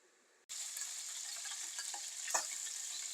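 Chicken sizzles steadily in a hot pan, a close, even hiss dotted with small pops and crackles.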